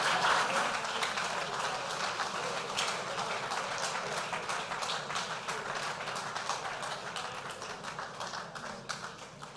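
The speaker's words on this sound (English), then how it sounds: "Please keep that round of applause going." Audience applause at a business lunch in Lagos, a sustained round of many hands clapping steadily and gradually thinning toward the end.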